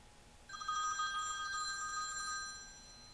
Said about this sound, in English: The phone's still ringing.